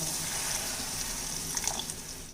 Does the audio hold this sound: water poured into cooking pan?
yes